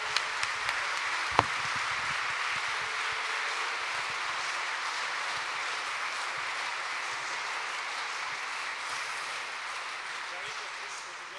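Audience at the Truck of the Year 2016 award ceremony clapping in a sustained, even burst that carries on for over ten seconds, with a few sharper claps near the start and faint voices underneath.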